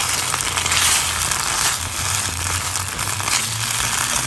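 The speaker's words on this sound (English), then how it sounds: "Now I'm going to mix it all up." A spoon scraping and stirring fish curry ingredients, including tomatoes, coriander and salt, in a hot pan, giving a steady sizzling crackle with rough, uneven scrapes close by.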